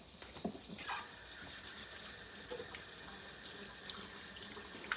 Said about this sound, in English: So I washed my hands. Let me wash them again.